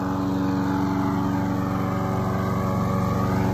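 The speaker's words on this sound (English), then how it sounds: "Now we're just putting it through the lawnmower. Giving it a good mulch." A lawnmower engine runs steadily while mulching seaweed, a loud, close, unbroken drone with a buzzing tone and no pauses.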